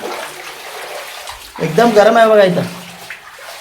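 Hot spring water pours and splashes inside a cave, a close gushing rush that swells in the middle, with someone talking over it.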